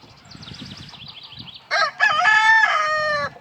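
An old rooster crows close by, a loud cock-a-doodle-doo that rises sharply and holds, over faint background noise.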